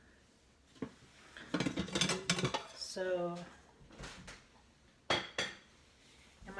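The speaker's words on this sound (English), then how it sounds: "I'm gonna actually do dishes while I" Dishes being washed by hand: pots clatter and cutlery and glassware clink in irregular bursts, close by, with a brief spoken word in between.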